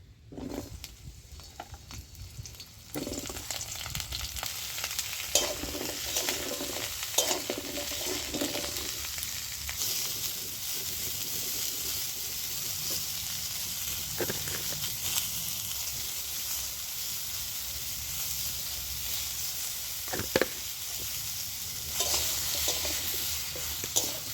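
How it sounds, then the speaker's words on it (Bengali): Pointed gourd pieces fry in oil in a pan with a steady, close hiss, broken by repeated scraping and clattering as a spatula stirs them, without any talk. "ওই তেলের মধ্যে আমি পটলগুলো দিয়েও ভেজে নিচ্ছি"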